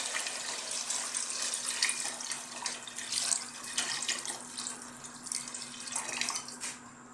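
Rice washing water pours steadily into a pot of sour Filipino tamarind chicken soup, a continuous splashing gush heard close up with no voices.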